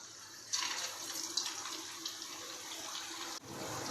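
Smiley-face potato shapes hit hot oil and fry with a sudden hissing sizzle that settles into a steady, fairly quiet bubbling, close by, with no talking.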